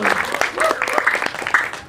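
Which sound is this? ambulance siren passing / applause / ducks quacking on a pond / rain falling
applause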